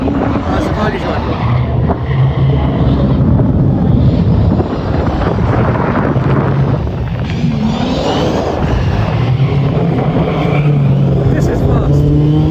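Group B rally cars roar past at a race circuit, loud and continuous engine noise rising and falling as they pass, with someone talking over it.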